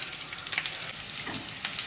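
Potato fritters (perkedel) frying in hot oil in a home kitchen, a steady close hiss and crackle with faint clatter throughout.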